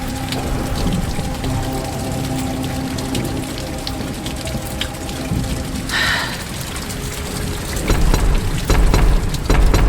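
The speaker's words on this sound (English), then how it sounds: "Pissing rain." Heavy rain pours steadily in an animated Warhammer 40K film, a dense loud wash of hiss and patter that holds throughout and swells heavier near the end, with no voices.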